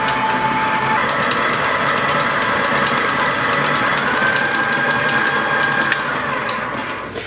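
An electric mixer whips vanilla frosting made with room-temperature ingredients, a steady, loud whirring and grinding drone running continuously with no pauses and easing slightly at the end.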